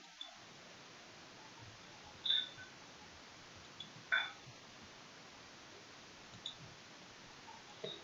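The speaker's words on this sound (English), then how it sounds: "click on new, click on new folder" Several sharp computer mouse clicks while a new folder is created in a Windows directory, sparse and close against a low hiss, with a double click near the middle.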